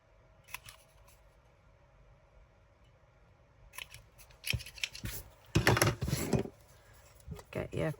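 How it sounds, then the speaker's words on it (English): Scissors snip off the corners of paper tickets in a crafting session, a few crisp close cuts clustering toward the end, with soft handling noise between them and no talk over the snips. "So then we do the corners. Just snip off."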